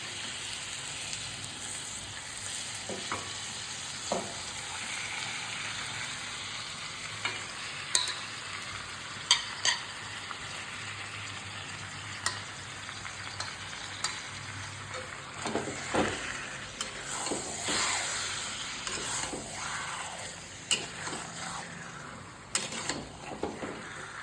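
Chicken for biryani sizzles gently in a pan while a utensil scrapes and stirs, giving irregular clinks and rasps over a quiet, continuous frying hiss.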